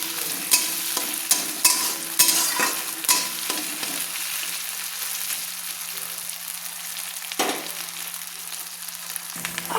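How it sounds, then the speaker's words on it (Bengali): Garlic and ginger frying in a pan while being stirred with a spoon, steady soft sizzle punctuated by repeated scraping and tapping strokes against the pan, close and clear with no talking. "দিয়ে ভালো করে একটু নেড়ে নিচ্ছি"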